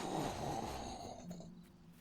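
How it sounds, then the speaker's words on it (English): One person's yawn, a drawn-out breathy inhale with a throaty, snore-like rasp heard close to the microphone, fading as it trails off. "Joke's on you, that was a yawn"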